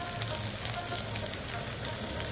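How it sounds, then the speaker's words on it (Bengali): Taro and potato pieces frying in oil with salt and turmeric for a homestyle Bengali fish curry, giving a steady, close sizzle that runs evenly through the whole stretch with no talk. "কচু আলুটা আমি ভাজা হয়ে গেলে একটু নুন আর হলুদ দিয়ে ভেজে নেবো ভালোভাবে করে।"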